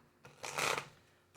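Tarot cards are shuffled once in a short, soft riffling burst, close by and quiet, with no other sound.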